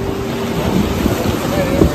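Waves and open sea at Mandvi surge in a steady wash, loud and close, with strong wind buffeting the microphone throughout.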